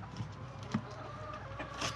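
Backyard chickens cluck softly in a few brief calls at close range over a quiet outdoor background.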